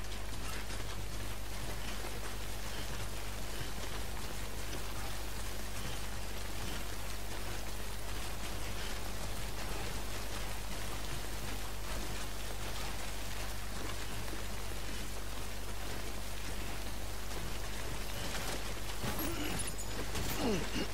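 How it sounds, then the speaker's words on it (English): Timefall rain in the Death Stranding video game: a steady, dense hiss of heavy rainfall pattering on surfaces, continuous and close for the whole stretch, with no talk. "Don't stay out in the rain any longer than you have to."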